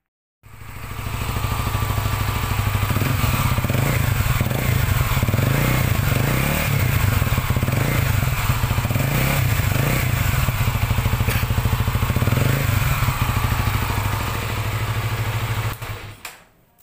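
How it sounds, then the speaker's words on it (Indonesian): A stock motorcycle engine runs hard on a dyno before a velocity stack modification, a loud, steady, close roar with throbbing low exhaust pulses sustained for about fifteen seconds before cutting off. "pengukuran dyno test sebelum motor dimodifikasi velocity stacknya"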